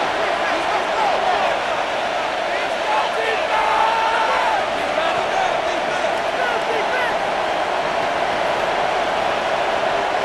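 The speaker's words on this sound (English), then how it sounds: "And they're going to hear it from this crowd." Stadium crowd noise from the Madden NFL 26 football video game, a steady loud roar of the crowd filling the whole stretch, with no individual voices standing out.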